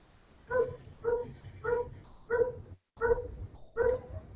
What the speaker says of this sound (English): It's my across the street neighbor's dog.